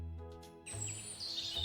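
A nightingale sings in a forest near a village, giving brief high chirps and warbling notes. The song is fairly soft over a low background hum.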